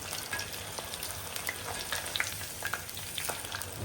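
Chicken frying in oil crackles and sizzles continuously up close, with scattered sharp pops and light stirring scrapes over the steady hiss.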